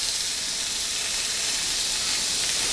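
Steak browns in a dry, oil-free pan with a loud, constant hissing sizzle, close and unbroken from start to finish, with no talking.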